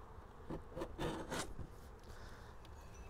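Scraping of a wooden beehive box in an outdoor bee yard, a few rough rubbing strokes close by with buzzing bees around, no talking.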